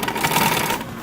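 Sewing machine top stitches a seam on a vehicle seat cover, a brief close burst of rapid, rattling stitching.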